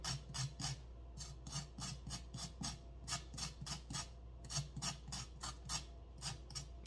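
A kitchen knife scrapes raw carrots in quick, even rasping strokes, a steady rhythmic series of short scrapes close by and fairly quiet, with no talking.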